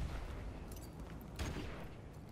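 Explosions and gunfire in a Call of Duty Remastered match: dense, noisy bursts with a sharper blast midway, all fairly distant and muffled.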